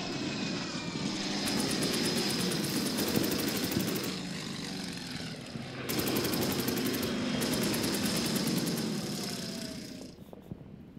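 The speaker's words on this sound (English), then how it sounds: "Now I'm going to go after this enemy fighter plane." Ilyushin Il-2 heavy fighter flying in the WWII strategy game Order of Battle, a sustained droning aircraft engine roar with bursts of rapid machine-gun-like rattle, then fading out.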